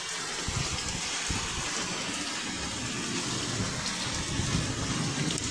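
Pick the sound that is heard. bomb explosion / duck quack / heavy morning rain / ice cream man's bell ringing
heavy morning rain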